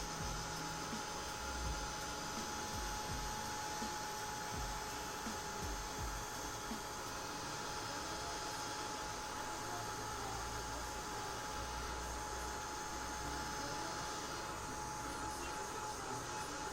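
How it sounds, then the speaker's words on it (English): Heat gun blowing hot air to dry chalk paint on wood, a loud, steady whooshing drone with a constant motor whine that runs unbroken throughout. "So here I'm using my heat gun"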